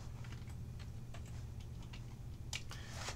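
Light, quick keypresses on a computer keyboard, a short run of soft ticks ending in a sharper cluster of clicks, faint over a low steady room hum.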